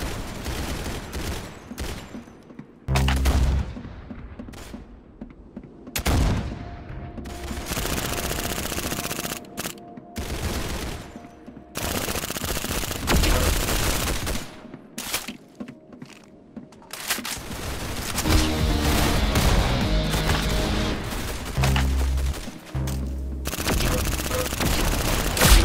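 Video game gunfire in Roblox Arsenal, bursts of shots in rapid fusillades with short gaps, loud and close, continuing across the whole stretch.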